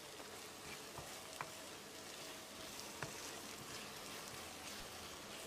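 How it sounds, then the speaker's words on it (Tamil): A red snapper fish curry (sankara meen kuzhambu) simmers in a pot over a medium flame, making a faint, soft bubbling and sizzling hiss with a few small pops and ticks. No one speaks. "அளவான தீயிலேயே 1 நிமிஷம் கொதிக்கட்டும்"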